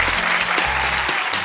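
A burst of applause rises at a birthday fan event, short and fairly close, with a few sharper claps punching through the steady clatter.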